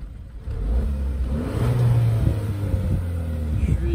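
A Fiat 500X Sport heard from outside, its engine rising from idle into a moderate revving hum that holds steady, fairly close and not very loud.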